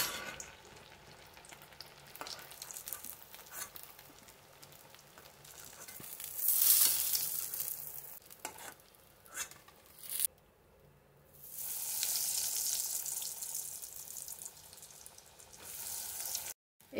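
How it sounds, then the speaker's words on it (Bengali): Vegetable cutlets deep-frying in hot oil, with a steady sizzle throughout that swells louder midway and toward the end, broken by a brief quiet gap; close and continuous, no talking. "এই দুটো আমার ভাজা হয়ে গেছে।"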